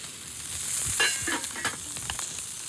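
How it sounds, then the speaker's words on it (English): Fish skin searing in a hot pan, a steady bright sizzle with a few soft clicks and scrapes, close and fairly quiet, with no voices. "Because I am wary of overcooking the fish in the pan. We are just trying to sear the skin."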